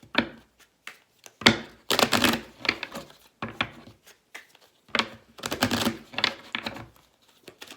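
A tarot deck being shuffled and laid out during a reading, giving bursts of riffling card shuffles and sharp slaps of cards set down, close up and with no talking between them.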